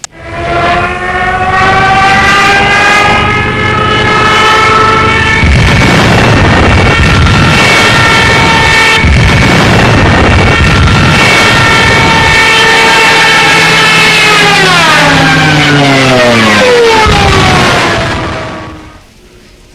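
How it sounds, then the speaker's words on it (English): A loud, piercing wailing siren from a Ju-87 dive bomber's Jericho trumpet drones continuously with a rumbling roar beneath, then its pitch sweeps sharply downward before cutting off. "the Jericho's trumpet, and this little fella made a scary noise, kind of like this."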